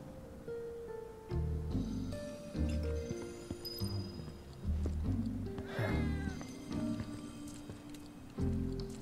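A cat meows in Final Fantasy VII Remake, faint and brief amid a busy game soundscape of music, footsteps and ambient clatter.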